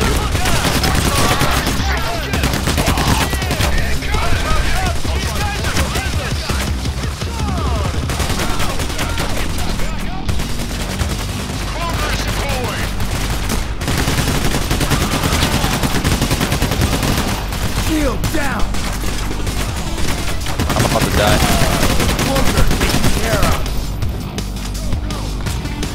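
Sustained gunfire from the Payday The Heist video game, rapid automatic bursts and shots overlapping in a dense, loud barrage for the whole stretch, with brief lulls and occasional talk underneath.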